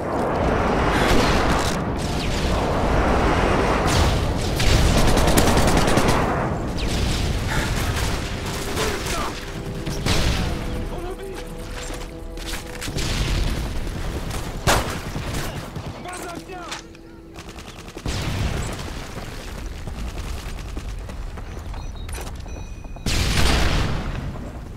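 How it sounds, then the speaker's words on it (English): Airstrike explosions in Call of Duty: Modern Warfare 3 arrive as loud, continuous booms and rumbling blasts mixed with rapid gunfire, with brief quieter gaps between heavy bursts and game voice callouts over them. "Friendly airstrike on the way."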